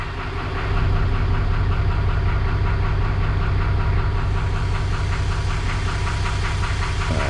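A diesel engine on a Princess 33 boat cranks and then runs at a steady rough idle, a loud, close, continuous knocking rumble with a rhythmic beat throughout.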